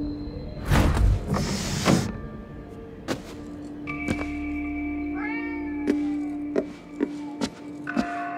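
Cats meow in the game Ghostwire Tokyo, several clear, close mews and drawn-out cries scattered over a faint ambient hum, following a brief louder rustling burst.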